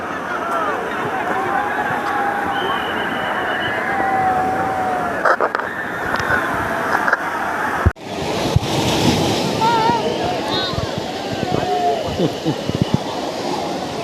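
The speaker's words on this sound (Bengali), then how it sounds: "আজকের অবস্থাটা দেখো এত ঢেউ উঠছে যে নামতে পারছি না আমরা দুজনে" Sea waves crash continuously onto a crowded beach at Digha, a steady roaring surf with gusts of wind buffeting the microphone and voices talking nearby.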